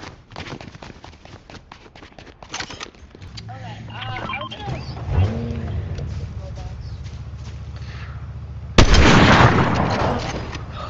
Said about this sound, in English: There's a shot. There's a gunshot.